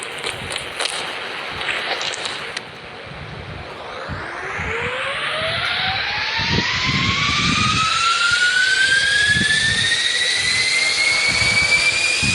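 A hover bike engine in a video game winds up into a rising jet-like whine that climbs in pitch and grows louder, with low rumbling beneath and no speech.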